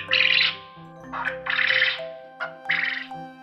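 A quail calls in three short, bright bursts, evenly spaced and fairly close, over a steady musical backdrop.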